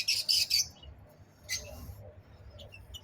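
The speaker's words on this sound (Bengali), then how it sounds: "বাচ্চা পাখিগুলো ভিতরে।" Lovebird chicks inside a nest box at a bird farm give a few high, thin chirping bursts close by, then quieter scattered peeps over a low background hum.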